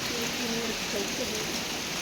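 Steady, dense hiss of heavy cyclone rain from Cyclone Fengal in a village, with faint voices talking underneath.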